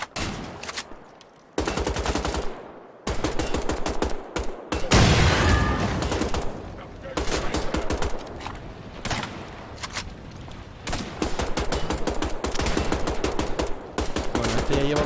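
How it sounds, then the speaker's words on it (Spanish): Rapid bursts of automatic gunfire from the shooter game Wolfenstein: The Old Blood rattle in loud, clipped volleys separated by brief pauses, with a heavier blast or explosion near the middle and sustained firing through the end. "Estoy disparando, recibió una granada en toda la boca."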